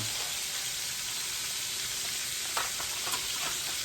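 Liver and onions sizzle in a frying pan, a steady close crackling hiss with a few sharper spits and pops near the end.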